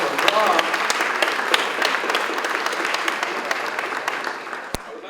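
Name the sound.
applause from the audience at a Norooz celebration at City Hall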